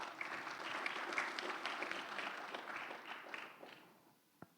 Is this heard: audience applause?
yes